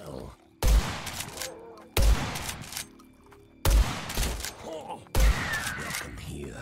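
Four heavy gunshots boom in the video game Blood West, each followed by a rolling echo and debris clatter, spaced about a second and a half apart, with a voice talking faintly underneath.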